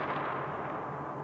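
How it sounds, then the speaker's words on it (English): A bat strikes a baseball in the film The Natural, giving a sharp, booming crack that tails off into a washy echo with no talk over it. "It's when he hit the ball."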